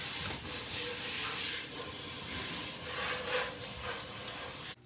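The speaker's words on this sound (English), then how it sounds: "we're just boiling a whole bag of the frozen chicken thighs till they're cooked through" A pot of frozen chicken thighs boils steadily for homemade dog food, giving a continuous close hiss and bubbling rumble that stays even throughout before cutting off at the end.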